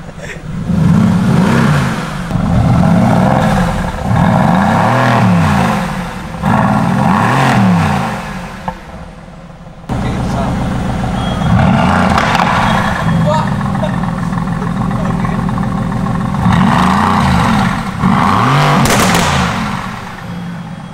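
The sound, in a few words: car engine revving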